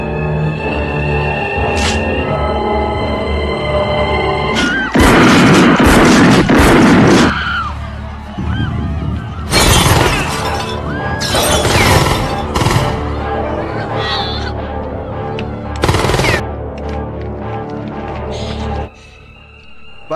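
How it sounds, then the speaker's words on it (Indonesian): Loud bursts of gunfire crack out in several clusters in a Terminator film shootout, sharp shots and rapid volleys separated by pauses, set against a dramatic music score. "Baku hantam dan tembak-tembakan di antara mereka pun tak terelakkan."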